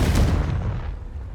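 A Confringo blasting spell explodes in Hogwarts Legacy as a single close, heavy boom with a deep low thump that quickly decays into a fading rumble.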